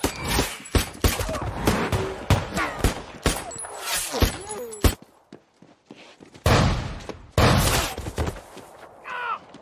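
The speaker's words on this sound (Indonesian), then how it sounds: "tembakan ajudan Carnegie yang diarahkan kepada Eli pun berkali-kali meleset" Repeated gunshots in a film scene as Carnegie's aide fires at Eli and keeps missing, a rapid burst of sharp cracks, then a pause and another loud volley, with no talk.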